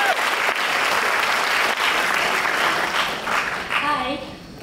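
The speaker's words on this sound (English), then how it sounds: "Give her a big round of applause." A student audience at a university talk in Singapore breaks into sustained, dense applause, loud and steady throughout before tapering slightly at the end, with a faint voice rising over it near the close.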